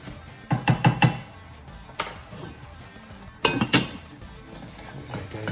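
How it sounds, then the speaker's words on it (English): A spoon clatters against a pan while breaking up greens for a creamy cheesy layered bake, with quick clusters of knocks and scrapes separated by quieter stretches. "Just get in there with your spoon and break up all the bits."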